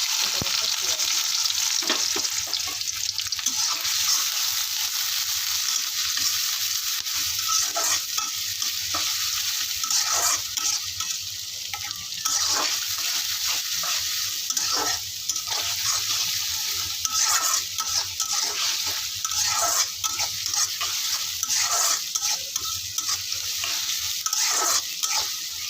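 Onions frying in hot oil in a pan while being stirred, a constant loud sizzle with repeated scraping stirs, close and continuous with no talk.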